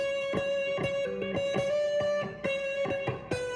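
An electric guitar on its neck pickup plays a sustained, mellow tone with repeated picked notes on a single string and a steady ringing pitch, warm and rounded, no voices.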